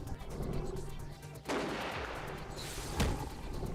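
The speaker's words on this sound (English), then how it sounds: "Oh yeah, Tetra Cannon." A Tetra Cannon fires in a Nintendo Switch survival horror game, with loud blasts near the start, at the middle and near the end over dense, noisy game sound.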